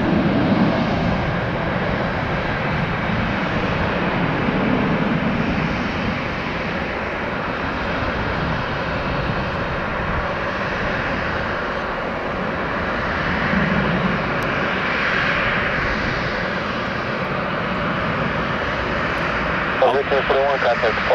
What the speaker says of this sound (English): no sooner than they send out a couple jets, United pulls over a couple more from the hangar